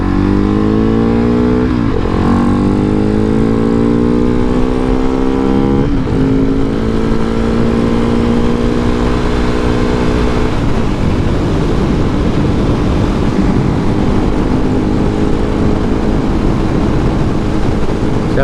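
A 2019 KTM 690 SMCR motorcycle engine pulls hard through rising revs, with pitch climbing and dropping at gear shifts. The engine is loud and close throughout, with wind noise underneath and no talking.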